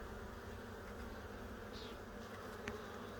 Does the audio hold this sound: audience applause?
no